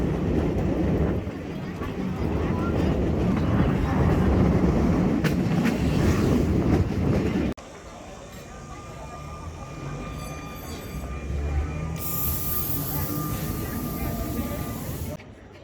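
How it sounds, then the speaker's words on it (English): Old Tren de Sóller tram running to Port de Sóller, Mallorca: a loud, steady rumble of the moving car with people talking over it, then a quieter stretch with a thin high whine and lighter running noise. "Then we also took the almost mandatory old tram to Port de Sollér."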